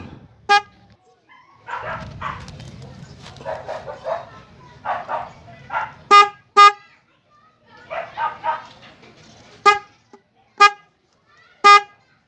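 Several short car horn honks sound in separate bursts, loud and close, with someone talking in between, from a horn wired to switch on the driving lights.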